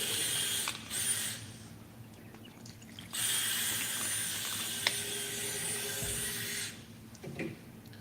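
A power drill pre-drilling screw holes during a home improvement job runs in two sustained whirring bursts of a couple of seconds each, separated by quieter gaps with faint clicks and handling noise.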